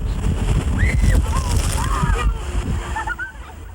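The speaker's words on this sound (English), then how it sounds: "the dune scooter races along the shoreline at 30 miles per hour through the waves." Dune scooter racing at about 30 miles per hour through waves along a lake shoreline, giving a loud continuous splashing and sloshing rush of water, with bird calls rising over it and a voice talking throughout.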